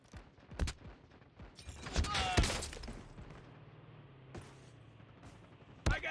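Bursts of gunfire crack through a Call of Duty battle royale squad fight, with several sharp single shots and a louder rattling volley in the middle, set against quieter game ambience.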